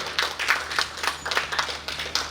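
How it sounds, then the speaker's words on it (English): An audience at India Energy Week applauds a panel: a light, scattered patter of hand claps, fairly faint and distant, continuing without a break. "please give a round of applause to the panel and Indian Energy Week and Jyotsna for organizing"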